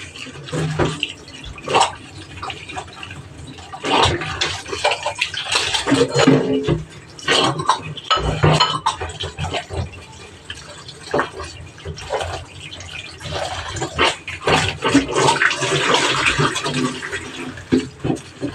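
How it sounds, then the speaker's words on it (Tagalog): Milkfish (bangus) rinsed under running water in a kitchen sink for sinigang, a steady splashing gush with louder surges and brief clatters throughout, no voices. "Ilagay na natin dito para mahugasan. And then, hugasan na natin."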